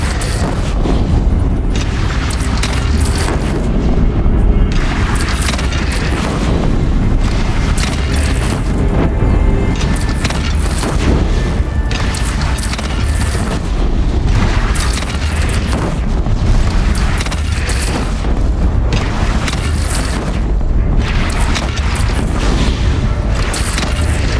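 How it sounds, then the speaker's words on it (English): Cannon fire from a bandit battle in the video game Horizon: dense, continuous booming rumble with heavy low-end blasts, loud and unbroken throughout without pause. "They only have one cannon!"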